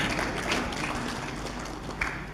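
An audience at a religious sermon breaks into a dense, continuous burst of clapping, fairly loud and close, with a murmur of voices mixed in.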